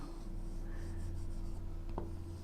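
Pen or pencil writing music notes on paper, a faint steady scratching with a short sharper stroke near the end, heard alone over a low background hum.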